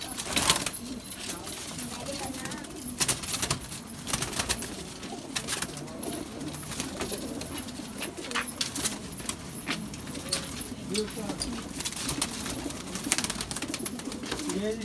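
Pigeons coo off and on against constant rustling and handling noise, with scattered clicks and flutters close by and a voice breaking in now and then.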